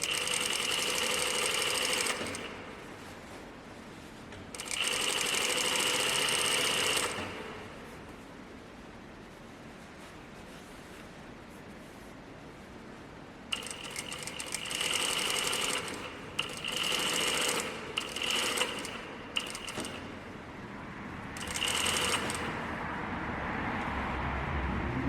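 A sewing machine stitches down the middle of overlocking on a button-up shirt, running in steady close bursts of a few seconds with short pauses, then a cluster of quicker stop-start runs.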